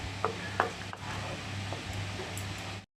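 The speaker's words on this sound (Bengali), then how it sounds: "দিয়ে এবার ভালো করে এই ছানাটার সাথে ছোলার ডালটাকে মিশিয়ে নেব।" Chhana being stirred into chana dal in a pot, with a few soft scraping strokes and faint clinks over a steady low background hum, close and fairly quiet.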